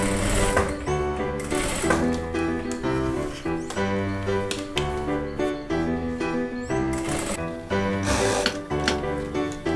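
Sewing machine topstitching the inner piece of a peasant-neckline dress bodice, running in quick rhythmic bursts of rapid stitching with brief pauses, close and clear, with no talking.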